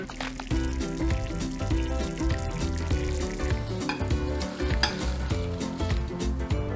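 Garlic, chili and red Sichuan pepper frying in oil in a pan over low heat, giving a steady, close sizzle with crackling bubbles, heard alone and without pause.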